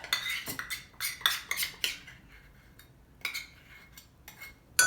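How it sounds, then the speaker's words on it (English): A spoon scraping and clinking against a dish while scooping out Boston baked beans, several sharp close metallic taps in irregular bursts with quiet pauses between. "I'm just going to get me a spoon and get out all of that goodness."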